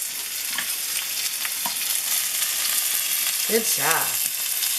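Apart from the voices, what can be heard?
meat sizzling while smashed in a hot pan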